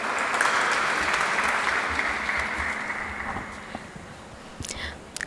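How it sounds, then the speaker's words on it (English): An audience at a commencement ceremony for a Master's in Political Leadership and Government programme applauds as a speaker is welcomed. The steady hall-wide clapping fades gradually, and a few louder claps come near the end. "Please put your hands together and welcome her with a round of applause."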